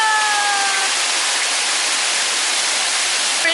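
A waterfall inside a dark cave on an indoor dinosaur-themed mini golf course rushes loud and steady, a dense hiss of falling water that fills the whole space.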